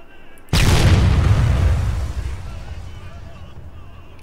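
A single heavy cannon shot from a T-100 Varsuk tank in the combat game Arma 3, a loud close boom with a long rumbling decay that fades over several seconds.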